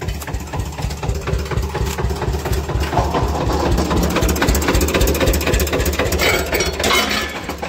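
A tractor engine idling in a farm field, loud and close, with a steady throbbing rhythm and a rattling knock running throughout.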